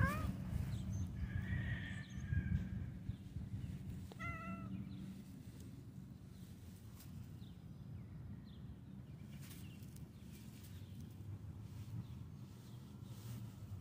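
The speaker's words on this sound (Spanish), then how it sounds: "Ya no sé si decirte gato, felino, peludo, cuatro patas." A cat meows close by in a few drawn-out calls near the start and once more midway, over steady outdoor background noise.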